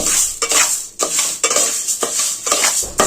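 Green gram, horse gram and pearl millet dry-roasted and stirred in a metal pan, giving repeated scraping and rattling sweeps of grains against the pan at a quick, uneven rhythm, close and loud with no voices.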